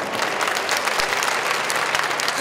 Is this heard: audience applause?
yes